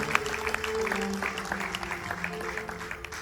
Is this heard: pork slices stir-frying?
no